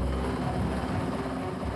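A dense, continuous rumble of a large French military helicopter close by, its rotor and engine noise filling the air at a steady loudness without pause.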